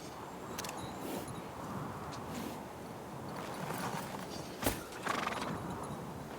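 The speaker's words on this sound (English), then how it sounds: "Come on, Pebbles, make friends with that horse while I'm taking care of business." Horse neighs and hooves clip-clop in the Kingdom Come: Deliverance II medieval video game, a brief whinny rising out of steady ambient camp background noise, fairly quiet and mid-distance.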